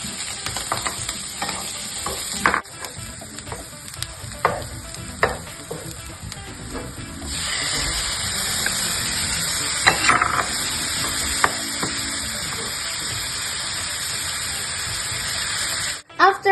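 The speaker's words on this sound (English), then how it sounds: "Then cook the cooked peppers until they become soft and add" Peppers and diced tomato frying in a pan, steady sizzling with stirring scrapes early on, then a louder, continuous hiss as the tomato hits the hot pan.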